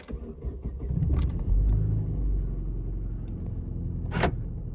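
A 1.6-litre Opel Vectra B Y16XE petrol engine cranks and starts, then settles into a steady low idle rumble up close, with a few brief clicks and a sharp tap near the end.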